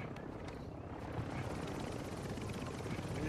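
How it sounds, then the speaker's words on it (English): Helicopter in Call of Duty: Modern Warfare II, a steady rotor drone with thudding low chop that holds at a constant, fairly near level for the whole span, with no talk over it. "Somebody done wrecked the helicopter."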